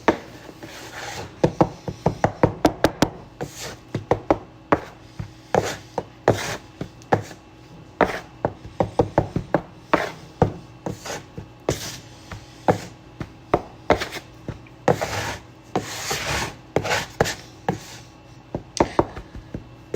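A board scraper scraping and knocking on pasta dough on a work surface, with rapid, irregular sharp taps and short scrapes in bursts, loud and close.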